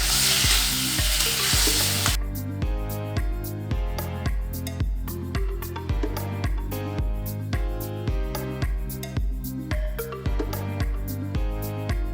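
Taro paste with green chili and garlic paste, turmeric and salt sizzles loudly as it is stirred in a pan at first, then the frying is mostly covered by rhythmic background music with a regular beat.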